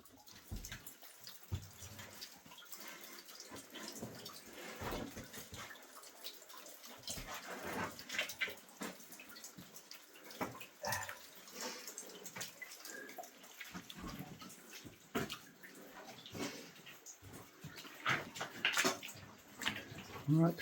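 Water trickles and drips through an underground sandstone mine, faint and close in the quiet passage, with scattered soft splashes and no talking.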